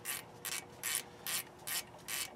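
A ratchet snugs up the front brake caliper bolts on a 2003 Chevy Silverado, six quick evenly paced bursts of clicking pawl strokes, close and crisp against a quiet background.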